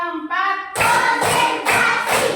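Classroom group clapping in a counted clapping routine: a brief tonal voice at the start, then three loud, broad bursts of many hands clapping together in a steady rhythm, close and clear.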